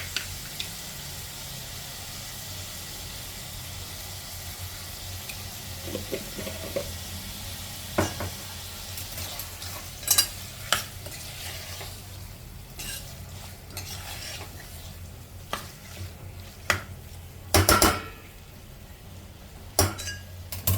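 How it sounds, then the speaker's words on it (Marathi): Chicken sukka, marinated for two hours, is stirred and sautéed in a pan: a steady soft sizzle runs throughout, with intermittent scraping and sharp metal clinks of the spoon against the pan growing more frequent toward the end. No voices. "आता बघा हे आपलं छान चिकन मस्त परतून झालेलं आहे।"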